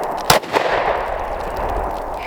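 A single sharp gunshot at a target stand in an outdoor sand pit, a loud short crack near the start followed by a fainter second report and lingering rumble; no speech.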